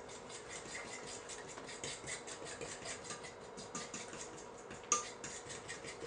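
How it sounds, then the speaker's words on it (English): Jiffy Mix dough and milk stirred with a fork in a bowl for cinnamon rolls, a soft continuous scraping and tapping of metal against the dish, close and fairly quiet, with one sharper clink near the end. "we're going to mix this up with a fork"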